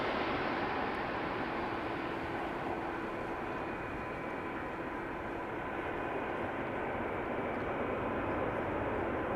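A Transavia airliner returning from Ibiza on arrival at Amsterdam Schiphol Airport gives off a steady, fairly distant broadband jet roar with a faint whine, holding constant for the whole stretch with no voices.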